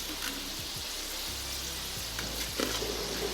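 Potatoes fry in oil over low heat for chicken biryani, giving a steady close sizzle with soft crackle and occasional stirring scrapes, and no one talks.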